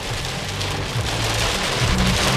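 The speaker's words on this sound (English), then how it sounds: "It's raining so hard." Heavy rain pounds a car on the highway, a dense, loud and constant drumming on the body and roof, with the low rumble of the road underneath and no voices.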